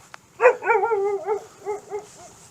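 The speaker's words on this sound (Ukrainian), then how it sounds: "Так, тут є собака." A dog at a house in Bershad gives a quick series of barks and yips, loud at first and then trailing into softer whiny barks, fairly close with no talking.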